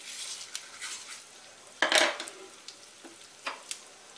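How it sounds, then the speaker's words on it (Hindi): Mustard seeds and sesame crackle and sizzle in hot oil for tempering a dhokla, with sharp pops and spoon clinks against the pan over a soft hiss. "तेल गर्म हो गया है। आइए इसमें हम राई,"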